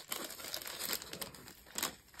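A small plastic bag of diamond painting drills crinkles and rustles close by, with continuous uneven crackling and a couple of sharper bursts over two seconds.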